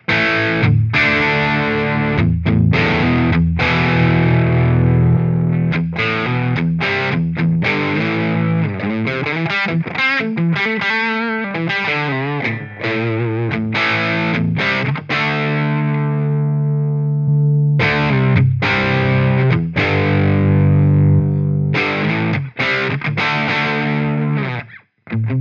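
Distorted electric guitar played through an Amplitube Brit 9000 model of a Marshall JCM 900 amp, unmastered, loud and continuous with chugging rhythm parts and sustained chords, no talking.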